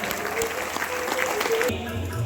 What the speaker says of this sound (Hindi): बच्चों, आपकी तालियों की गड़गड़ाहट रहनी चाहिए